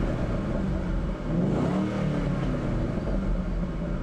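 A 2011 Shelby GT500 with a 550-horsepower engine accelerates hard, its revving roar rising and falling smoothly, close and steady throughout with a brief dip partway.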